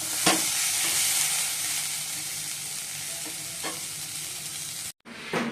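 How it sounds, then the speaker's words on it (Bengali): Sliced bitter gourd and potato frying in a pan, a continuous bright sizzle broken by a few scraping stirs, with no voices, ending in a brief cut-off. "এদিকে উচ্ছে আলু ভাজা বসিয়ে দিয়েছি"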